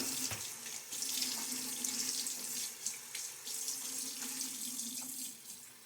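Bathroom water tap running into a sink to wet the face during a wet shave, a steady close splashing stream with small irregular splashes from hands in the water.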